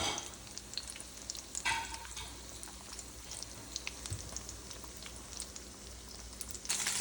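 Chicken Milanese cutlets frying in a pan, a steady low sizzle and crackle with a few brief clatters, no talking.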